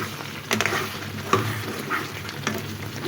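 Chicken pieces frying for shahi korma, sweetened with a little sugar, hissing steadily in hot oil while a spoon scrapes and stirs the pan in a few sharp strokes, close and continuous with no talk.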